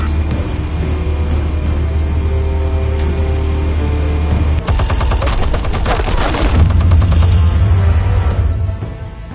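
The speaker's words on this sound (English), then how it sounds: "Explosives armed. Fire when ready." Explosions and rapid gunfire in a Batman video game, a dense burst of repeated shots and blasts erupting midway over a steady low engine-like rumble, loud and close.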